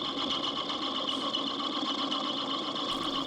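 A 75-year-old Monarch 10EE lathe making a facing pass, a steady whirring machine hum with a high tonal whine, continuous and fairly quiet, no talk.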